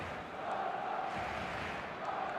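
Steady roar of a stadium crowd in an eFootball El Clásico match, Barcelona against Real Madrid, a broad continuous wash of cheering voices that holds at an even level throughout.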